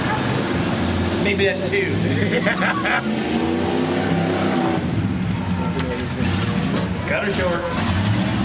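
Big diesel combine harvester engines rumble and roar at a county fair combine demolition derby, a steady loud mechanical drone with rising and falling revs while people talk over it.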